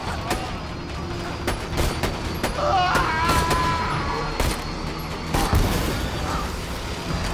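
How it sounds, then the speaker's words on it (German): Enemy grenade fire in Borderlands 2, with repeated sharp blasts and thuds mixed into a busy, loud firefight and mechanical clatter. "Die schießen ja mit fiesen Granaten."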